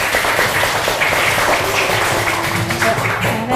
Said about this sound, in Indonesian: kita beri aplaus untuk kelompok 5